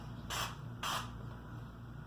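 Spray-on sunscreen hisses out of a can in two short close bursts, each about a quarter second long, with a steady low background hum throughout.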